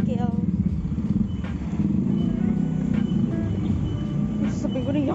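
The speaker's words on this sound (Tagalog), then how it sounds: "Sakay na akong tricycle." Steady low engine rumble with light clatter from a motor tricycle ride in the Philippines, continuous and close throughout, with faint voices and traffic noise in the background.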